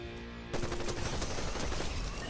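Rapid automatic gunfire in the video game Fortnite bursts in after a brief quieter lead-in and continues as a loud, dense rattle of shots to the end.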